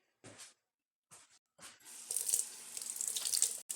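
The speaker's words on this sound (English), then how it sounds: "That's going in the sink to be washed after. Let me wash my hand again." Hands being washed under a running tap in a kitchen sink: a few short splashes, then a steady close stream of water that cuts off abruptly near the end.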